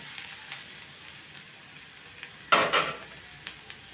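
Onions sizzle softly in a pan, frying toward golden brown, with a single louder scrape-and-stir burst partway through and a few light clicks.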